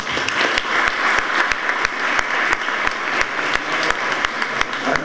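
An audience at a fair event bursts into sustained applause, many hands clapping steadily and close by for the full duration without pause.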